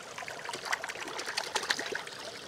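Water trickles and splashes softly outdoors as freshly caught brook trout are rinsed, a faint, continuous babbling flow without voices.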